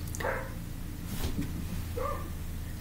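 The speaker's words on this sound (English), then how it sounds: "excuse my dogs barking." Dogs bark indoors, a couple of short muffled yaps spaced apart in the background against a steady low hum.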